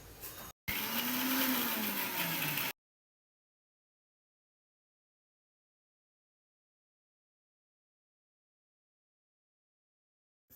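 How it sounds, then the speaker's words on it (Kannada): A mixer grinder blending green chillies with salt runs loud and steady for about two seconds after a brief start, its motor pitch dropping slightly as it spins, then stops into silence. "ಮೆಣಸಿನಕಾಯಿ ಮಿಕ್ಸಿಗೆ ಹಾಕೊಳ್ಳೋಣ"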